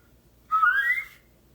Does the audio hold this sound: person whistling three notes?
yes